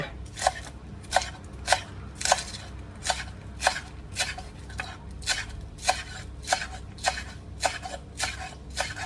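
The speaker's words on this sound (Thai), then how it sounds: "ต้นหอมเราก็จะหั่นเป็นชิ้นเล็กๆนะคะ" Green onions are sliced into small pieces with a knife on a cutting board, about a dozen crisp, evenly spaced chops at close range with no talking.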